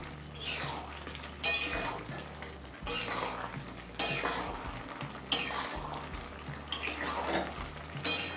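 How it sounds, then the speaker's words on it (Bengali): Chopped ridge gourd is stirred in a metal pan over a high gas flame, the spatula scraping and clinking against the pan in repeated strokes over a faint sizzle, close and fairly loud; no talking. "এবার গ্যাসের ফ্লেমটা হাইতে করে দিয়ে একটু নাড়াচাড়া করে নেব"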